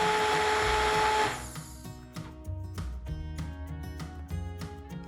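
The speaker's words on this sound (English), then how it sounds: "blitz carefully using a stick blender" A stick blender whirs through hot broccoli soup, a loud steady motor drone that cuts off after about a second, leaving quieter clunks and rattles of the pot and utensils.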